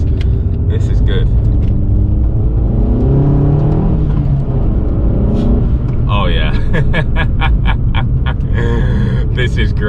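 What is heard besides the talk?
Abarth 500 with Stage 1 upgrade being driven, engine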